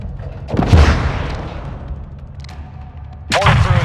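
Heavy explosions from an airstrike on enemy mortar positions in a Modern Warfare II battle, a loud booming blast with a long rumbling tail, then a second sharp impact near the end.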